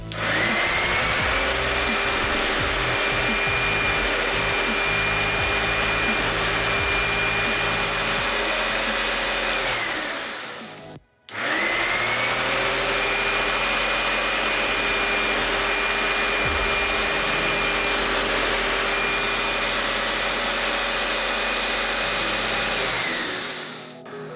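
A jigsaw cuts wood on a jigsaw table while a dust-collection vacuum runs, making a loud continuous motor whine with buzzing cutting texture; it briefly cuts out midway, then resumes, with no speech.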